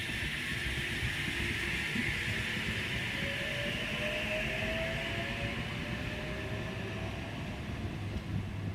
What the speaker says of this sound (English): H47 and H46 now departing platform number 1.